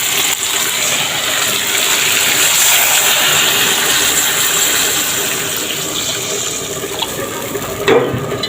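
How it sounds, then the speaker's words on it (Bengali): Water pours steadily and loudly into a pan of simmering curry to make a broth, a continuous rushing splash that ends with a small clunk. "তরকারিতে ঝোল দিয়ে দেবো।"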